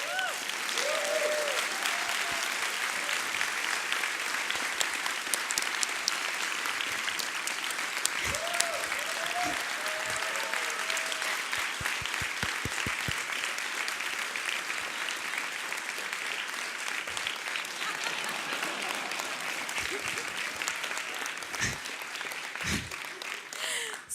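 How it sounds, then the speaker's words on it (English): A large audience claps in a long, dense, steady round of applause, with a few voices and whoops rising briefly over the clapping. "Please give me another big round of applause."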